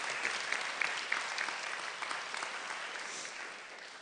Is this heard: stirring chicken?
no